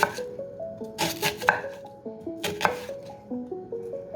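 A knife cuts an onion into chunks on a cutting board for oven-roasted vegetables. Close, rhythmic chops land about every half second, with a few sharper knocks standing out, and no voices.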